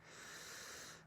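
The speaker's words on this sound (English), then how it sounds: "So I'm sniffing wild orange, if you wondered." A single close, breathy sniff of wild orange essential oil, a short steady inhalation through the nose lasting about a second, quiet and alone.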